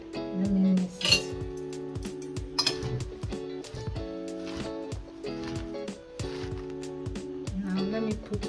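Salad being tossed with olive oil in a bowl, with light repeated clinks and soft wet squishes of the utensil against the bowl over a steady background hum, while a person talks.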